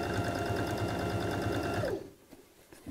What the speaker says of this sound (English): I'm just going to sew around the edges.